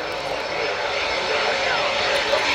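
A Eurofighter Typhoon jet from Italy taxiing past at the RIAT airshow, a loud, steady engine roar and whine that stays close and constant throughout.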